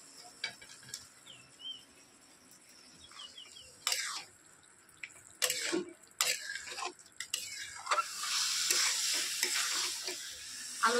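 Fried potatoes tipped into spice masala in a pan, faint sizzling with scattered scraping and clattering stirs that grow into a steadier frying hiss toward the end.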